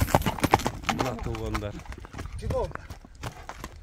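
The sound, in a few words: horse hooves clip-clopping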